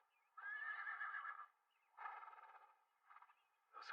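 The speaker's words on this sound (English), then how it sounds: "Those horses must have been the bandits." Horses whinny in several separate calls, a long wavering neigh followed by shorter ones, clear and fairly close with quiet gaps between them.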